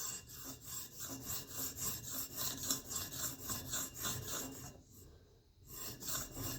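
An EDC knife blade rubs against a sharpening stone on its back side to raise a burr, a steady rhythmic rasping of repeated strokes with a short pause before resuming.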